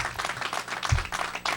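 Applause breaks out in the audience at a board of education meeting, a brief burst of scattered hand clapping from a moderate distance, with no speech over it.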